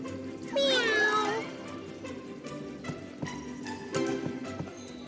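A slot machine game gives out a drawn-out, warbling cat meow, loud and clear, followed by a series of short chiming and clicking game effects and a brief second mew-like tone.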